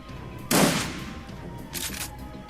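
Enemy gunfire in the video game Shadowrun: Dragonfall, a loud close burst of shots followed by a second, shorter volley a moment later.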